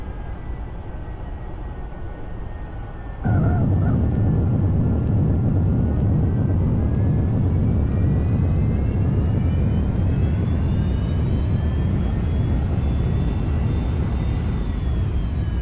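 A Boeing 737-800 lands in X-Plane 11 with a loud, steady jet engine roar that swells abruptly after a quieter start and holds with a slowly rising whine.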